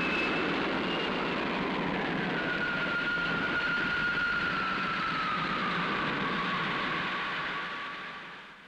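A spaceship lifts off in a 1962 science-fiction TV series, heard as a steady roaring rumble with a high whine that glides downward, loud and continuous before fading at the end.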